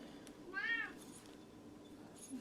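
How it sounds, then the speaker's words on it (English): A cat meows once in the background, a short rising-falling call heard faintly at a distance behind a quiet room, with no talking. "Cat in the background."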